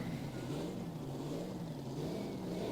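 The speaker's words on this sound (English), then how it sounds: "we want to hear that automotive reciprocating engine sing" Limited pro stock pulling tractor with an automotive reciprocating engine, revving steadily at a pulling event in Nashville, Illinois, heard faint and distant as a sustained mid-pitched drone.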